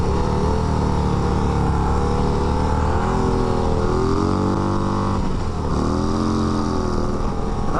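A 2024 Harley-Davidson Road Glide ST motorcycle accelerates hard, its engine roaring loud and close with rising harmonic pitch through gear changes, dipping briefly between shifts before climbing again, with no voices over it.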